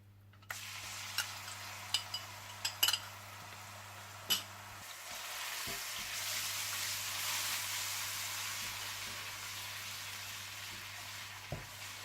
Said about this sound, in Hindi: इसमें आप अदरक लहसुन डालकर थोड़ा सा भून लें